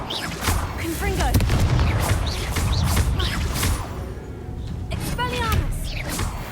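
A Confringo fire spell blasts during a Hogwarts Legacy duel, with booming impacts and crackling over a dense, busy soundscape of game combat effects that keep up through the scene.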